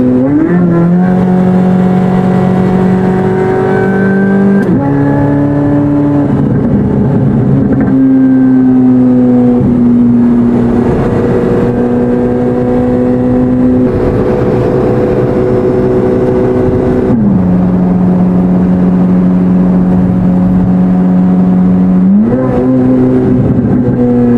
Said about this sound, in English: Nice pop on the shifts. Manual shift.